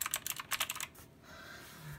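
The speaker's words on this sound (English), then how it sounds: "we have just a Red Dragon blue switch keyboard, so it's very clicky" Clicky typing on a Red Dragon mechanical keyboard with blue switches, a quick run of sharp keystrokes close up that fades into quiet room hiss.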